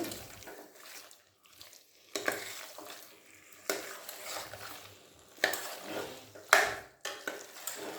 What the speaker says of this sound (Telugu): ఇలా కలుపుకుంటూ ఒక 10 నిమిషాలు లో ఫ్లేమ్లో బాగా ఉడికించుకోవాలండి.